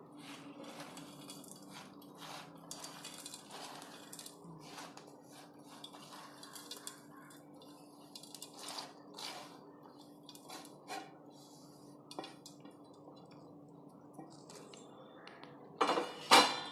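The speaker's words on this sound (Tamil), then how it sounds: "போட்டு நல்லா கலந்துடணும்." A spoon stirring powdered rock sugar into mashed cooked rice in a metal vessel, giving soft repeated scraping and clinking strokes at close range, with a sharper clatter near the end.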